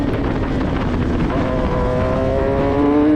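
Formula 1000 race car engine heard onboard on track at the Mini-Nürburgring, a loud steady high-revving drone whose pitch climbs through the final second, with wind rush over the microphone.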